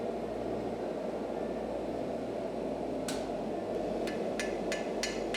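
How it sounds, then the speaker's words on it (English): Hammer blows forge-welding the seam of a Viking spear core, a handful of sharp metallic strikes starting about midway, the later ones in a quick series, over a loud steady roar of forge air and fire. "I follow the seam with the hammer on both sides so that I get a complete weld."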